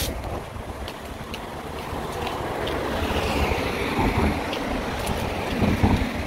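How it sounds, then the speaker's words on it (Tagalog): Wind blowing outdoors in gusts, rushing and buffeting the microphone in a steady broadband roar that swells toward the end, with occasional faint thumps and no speech. "Mahangin."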